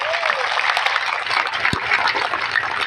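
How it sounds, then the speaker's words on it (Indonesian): Applause from the crowd at a labour party congress, a dense, steady roar of clapping that goes on with no pause. "Kita beri aplaus buat beliau."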